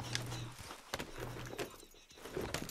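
Horse hooves clip-clop on the ground in the video game Red Dead Redemption 2, a few uneven, moderately close strikes spread across a couple of seconds over soft background ambience.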